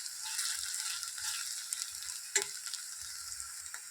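Coconut paste (vatan) being sautéed in oil in a pan for a Malvani green peas curry, giving a steady, close frying sizzle with soft scraping stir strokes and one brief sharper clatter partway through.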